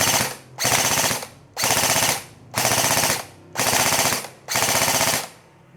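Rapid full-auto bursts from an airsoft rifle, an ENC HK416 with a working suppressor, firing six evenly spaced mechanical bursts of about half a second each, loud and close with brief gaps between them.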